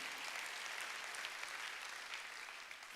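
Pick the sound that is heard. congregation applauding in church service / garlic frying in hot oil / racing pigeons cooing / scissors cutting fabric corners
congregation applauding in church service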